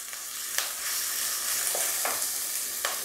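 Tomatoes frying in a hot pan for a prawn and drumstick curry give a steady, close sizzle with a few sharp crackles and stirring clicks, no voices.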